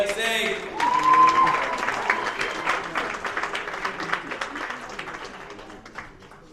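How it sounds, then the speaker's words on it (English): A crowd at a poetry slam breaks into applause, clapping swelling quickly then gradually fading out over several seconds, with a voice briefly heard at the start. "So everybody give a round of applause to Poetic Zay."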